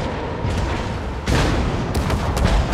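Secondary battery guns on a heavy four-turret warship in World of Warships fire in rapid overlapping booms and cracks, loud and close, with a sharp surge of heavier blasts partway through.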